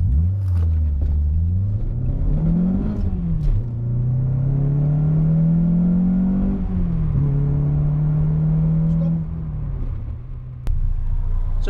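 A 2003 Renault Clio Cup with 172 bhp accelerating hard from a standstill to 60 mph, the engine note rising through the gears with brief dips at each shift, loud and close throughout with no talking.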